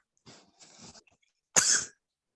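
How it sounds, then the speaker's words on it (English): Someone sneezes, two short breathy build-up sounds followed by one sharp, loud burst close by, with no talk. "I'm hearing somebody sneeze"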